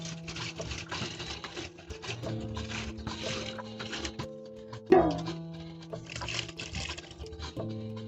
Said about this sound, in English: So I'll add some water up to around here.